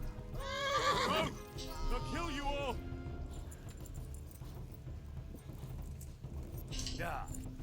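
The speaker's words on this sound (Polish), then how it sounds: "Bo już mi się koń męczy." A horse in the medieval role-playing game Kingdom Come: Deliverance whinnies twice up close, over a steady patter of hooves, with another brief neigh near the end.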